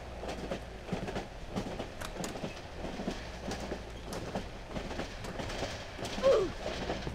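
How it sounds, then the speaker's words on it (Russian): A train rumbling past in the horror video game Cry of Fear, a steady heavy low roar with rhythmic clattering of wheels on rails, continuous and fairly loud throughout, with no voices. "Да это из-за поезда он шумит"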